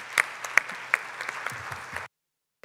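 Brief applause for distinguished panelists at a WTIS-17 plenary session, a few sharp, distinct claps rising over a thin patter of hands before cutting off abruptly into silence.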